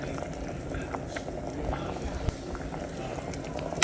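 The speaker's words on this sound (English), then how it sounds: "so I'll let this boil so it fully cooks the carrots" Carrots simmering in an orange marmalade sauce on a stovetop burner, a low continuous bubbling and gurgling close by, with faint kitchen clatter.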